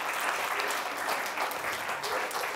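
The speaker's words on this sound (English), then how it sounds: "let's give a big round of applause to Dr." Warm, steady applause from an audience for a doctor who spoke at a conference on Smith-Lemli-Opitz syndrome and autism, brief and moderately quiet with a dense, even texture.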